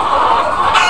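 A flock of chickens clucks densely and continuously on a poultry farm raising around 1,600 birds, a close, steady chorus of overlapping calls with no talk.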